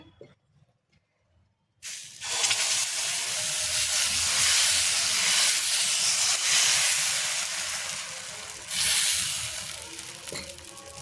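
Dosa batter sizzles loudly on a hot pan, a steady close hiss that starts abruptly after a brief quiet and holds for the rest of the moment, swelling again near the end.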